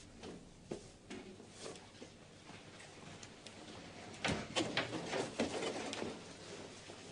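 A pigeon or dove coos in a few soft, low calls set against a faint background of scattered rustles and small knocks, with no one speaking.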